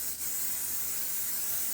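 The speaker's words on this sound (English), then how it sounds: "You can use butter, melt it in the pan, or you can just use cooking spray" Cooking spray hisses steadily into a frying pan, a close, continuous broadband spray lasting under two seconds with no talking.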